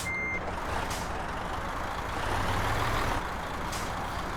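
Truck in the Euro Truck Simulator 2 game backing up, a rhythmic series of reversing beeps over a steady engine rumble, with a brief air-brake hiss at the start.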